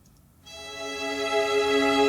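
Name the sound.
string pad with violin ensemble added in EDM cover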